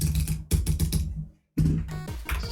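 Clicky keys on a tiny, hollow Sayo keyboard pressed in quick bursts of crisp typing, with a brief silent gap before another run of rapid clacks.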